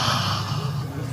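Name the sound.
storyteller imitating a dragon yawning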